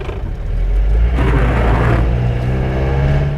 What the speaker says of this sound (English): I got an upgrade to the engine, so you can really hear those revs when you go